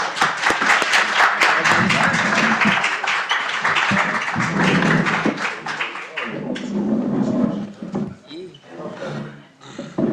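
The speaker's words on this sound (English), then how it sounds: "Give them a round of applause." A symposium audience applauds as a panel is introduced, a loud dense wash of clapping with some cheering that thins out toward the end as voices take over.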